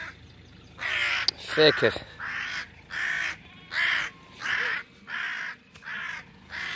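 Crows caw over a dead ewe in a sheep field on a farm, about seven loud, harsh calls in a steady rhythm. Someone speaks briefly near the start.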